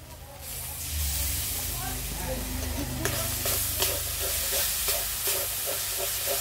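Tomato paste hits a hot pan and sizzles loudly, a broad steady hiss with a few scraping stirs, heard close and without talk.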